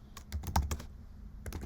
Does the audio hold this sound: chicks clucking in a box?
no